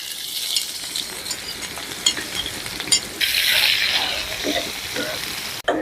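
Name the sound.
onion and garlic sizzling in hot oil for dal tempering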